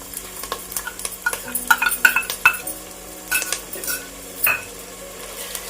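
Masala paste and onions, part of a fish curry, are stirred and fried in a metal pan, with a spatula clattering and scraping in quick irregular strokes over a low sizzle. It is close, with no talking.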